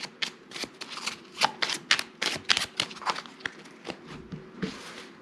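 A deck of tarot cards is shuffled by hand for a reading, giving quick, crisp riffling bursts in an uneven rhythm, close and alone with no talking.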